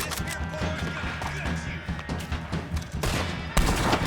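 Gunfire in the Red Dead Online western game, a run of loud close shots and a machine-gun rattle over steady game noise, with a sharp heavy blast near the end and someone talking.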